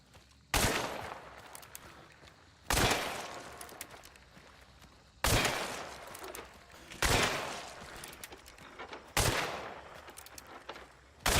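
Five loud, sharp pistol shots in a video game, spaced roughly two seconds apart, each with a short decaying echo, with no talk over them.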